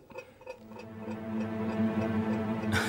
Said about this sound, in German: Das tickt ja.